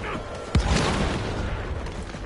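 A grenade explosion in Evil West goes off as a single sharp boom with a low rumbling tail under a steady roar of game noise.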